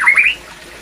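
A white-rumped shama (murai batu) in a breeding cage gives one short, loud, harsh rising squawk, close by and alone, then falls quiet.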